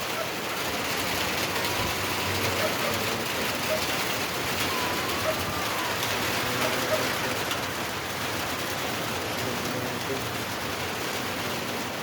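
Steady rain pours down outdoors in an even, continuous hiss of drops on surfaces, close and fairly loud, with no talk over it.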